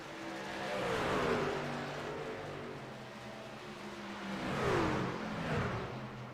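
Race truck engines at Phoenix Raceway roar in two waves, swelling and fading as trucks accelerate past, with pitch sweeps of passing vehicles over a steady engine drone.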